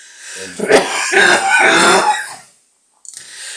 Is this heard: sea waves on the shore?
no